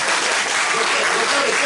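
Audience applause at a science event, a brief, dense burst of many hands clapping together at a steady, full level with no pause.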